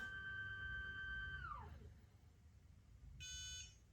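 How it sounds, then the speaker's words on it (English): An iOptron CEM70G telescope mount beeps: a sustained electronic tone slides downward in pitch and fades out, then after a short pause a brief, higher-pitched beep sounds over a low background hum. "It beeps at you, tells you, hey, I'm ready."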